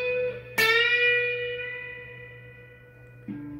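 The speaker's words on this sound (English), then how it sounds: "And then you're gonna bend a whole step bend." Electric guitar in a lesson, with a bright picked note whose pitch is bent up a whole step and left ringing with a long effected decay, then a lower note enters near the end, alone.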